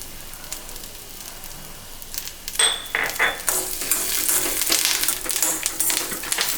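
Small onions and garlic sautéing in a pan, quiet at first, then a rising crackling sizzle with scraping stirs and clinks from a utensil, growing fuller toward the end, with no voices.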